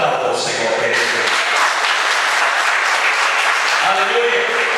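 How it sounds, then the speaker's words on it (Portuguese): A church congregation applauding together in a large room, sustained dense clapping that stays loud and steady throughout, with voices mixed in beneath. "Aplauda o Senhor, querido."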